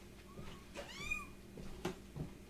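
Kittens meow during a bath with dish soap, several short rising-and-falling mewls spread across a couple of seconds, fairly close and clear over soft splashing and handling noise.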